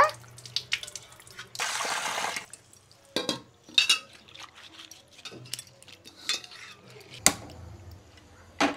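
Figs being rinsed in water in a home kitchen before boiling with potatoes: intermittent close splashes, drips and a sustained burst of running or poured water, with bowl and pot clinks and no talk.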